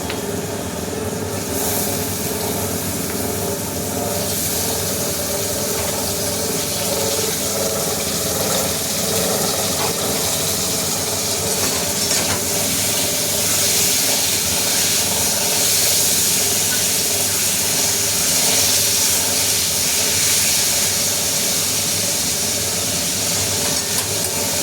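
Boneless chicken pieces frying in a hot pan on a gas stove, a loud, dense, continuous hiss and sizzle that holds steady throughout without pause.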